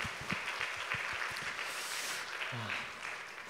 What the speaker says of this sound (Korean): 박수로 우리 격려하겠습니다.